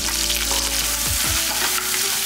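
Onion, asafoetida, turmeric and salt sauté loudly and steadily in a pan for a brinjal tamarind curry, with a continuous close sizzle and a couple of brief stirring scrapes.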